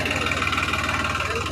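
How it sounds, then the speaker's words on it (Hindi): A New Holland 3600-2 tractor engine idles after being restarted with the key, a steady, close, rhythmic diesel chug with faint knocking pulses running throughout. "तो अब मैं बैठा हूँ ट्रैक्टर पे और 2-3 बार चाबी बंद करके चालू करने पे फिर से चालू हो गया है।"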